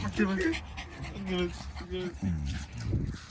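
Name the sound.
dog panting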